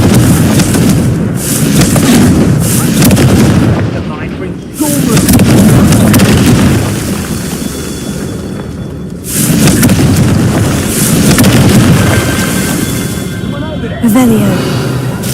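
A Confringo blasting spell in Hogwarts Legacy sets off booming explosions, two heavy bursts several seconds apart, loud and close over a continuous rumbling game soundscape with talk mixed in.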